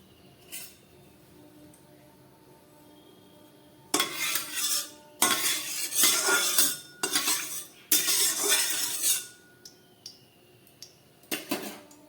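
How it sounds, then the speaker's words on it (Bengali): A metal kadai (wok) is set on a kitchen stove before cooking a fish curry, giving several loud, close metallic clanks and scraping clatters in quick bursts, separated by quiet gaps. "আমি রান্নার জন্য একটা কড়াই বসিয়ে দিলাম"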